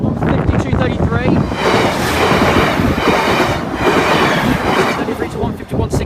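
Northern passenger train running through the New Lane station level crossing in Lancashire, a loud, close rumble and rushing roar that stays steady throughout, buffeted by wind noise on the microphone.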